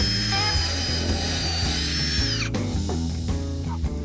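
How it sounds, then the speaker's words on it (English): Power drill boring fixing holes through bathroom woodwork held on scrap wood, a high steady whine for about two and a half seconds that cuts off, followed by softer mechanical clatter, loud and close. "Next thing to do is just to drill out our fixing holes that we marked earlier."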